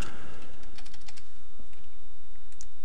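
A computer keyboard being typed on, heard as a quick flurry of light key clicks over a constant loud background hiss, then a couple of isolated taps near the end.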